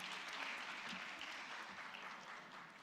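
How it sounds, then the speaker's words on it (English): An audience applauds at an international chartered accountants' conference after a laser show, a dense, steady wash of clapping from many hands that fades slightly toward the end, with no talking. "Can we have a big round of applause for them?"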